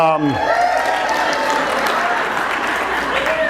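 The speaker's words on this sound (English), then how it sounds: "That's the greatest applause I think I'll get." Loud applause from a crowd fills the whole stretch, steady and dense, with a brief voice heard at the very start.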